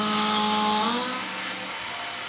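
Tormach CNC mill with a face mill cutting metal at a 25-thousandths depth of cut: a loud, steady tonal whine over a broad grinding hiss, continuous for the whole short stretch, the pitch shifting slightly partway through.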